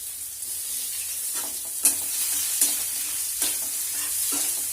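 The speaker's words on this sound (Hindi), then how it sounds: "लहसुन को हमें थोड़ी देर के लिए फ्राई करना है" Garlic frying in hot oil gives a close, steady sizzle, with a few sharp clinks of a utensil stirring the pan.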